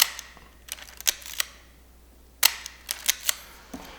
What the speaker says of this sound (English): So another thing about the rangefinder is just how quiet it is. Listen to that shutter.